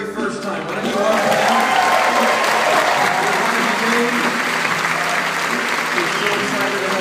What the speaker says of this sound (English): I need you to clap one more time